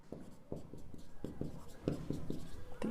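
Chalk or a marker taps and scratches across a board in short, irregular strokes as a polynomial is written, quiet and close with no speech over it.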